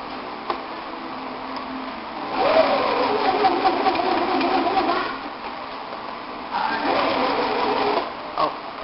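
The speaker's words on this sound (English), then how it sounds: "So, first we're going to sew along this side." A sewing machine stitches a side seam on stretchy fabric, close and steady, running in two bursts of whirring with quiet pauses between.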